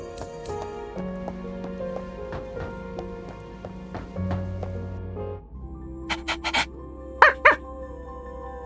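In a video game, a puppy gives a few short yips and whimpers near the end, heard over steady soft in-game music and ambient tones.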